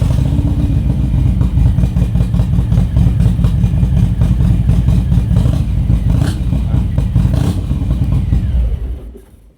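A modified Harley-Davidson Street Bob motorcycle engine runs loud and close with a deep, steady idle and slight revving, then cuts off abruptly at the very end.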